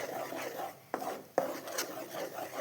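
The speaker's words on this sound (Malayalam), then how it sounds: "അപ്പോൾ നമുക്ക് ഇളക്കി കൊടുത്തുകൊണ്ടിരിക്കാം." Pineapple cooking in a pan is stirred with a few scraping strokes and two sharp knocks against the pan over a soft background hiss.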